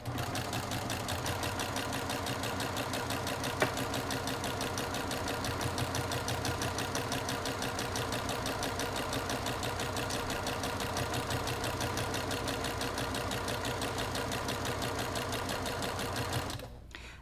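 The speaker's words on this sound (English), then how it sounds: "And I'm just going to stitch all the way across." Sewing machine stitches steadily straight across a quilted placemat, a close, fast, even mechanical whir and clatter running for about sixteen seconds before stopping.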